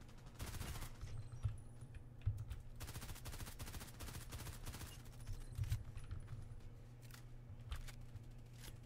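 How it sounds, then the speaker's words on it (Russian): Rapid bursts of automatic gunfire in the online shooter game Contract Wars, clattering in dense volleys with brief pauses between them, loud and close with no talk over them. "Вроде стреляю по тебе."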